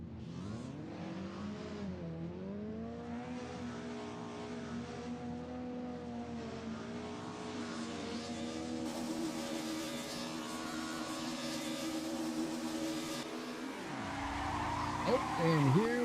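DTM race cars start a race at Salzburgring in a video game, with engines droning and revving loudly as a close pack and tires squealing near the end, under a voice.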